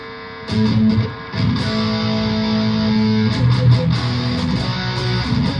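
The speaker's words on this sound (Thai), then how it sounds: "อ่าต่อไปเป็นเสียงแตกนะครับคร่าวๆแล้วกันเนาะ" Loud, gritty distorted electric guitar chords from a Lavish JL P Class piezo guitar ring out, with a few sustained strums changing pitch; no voices.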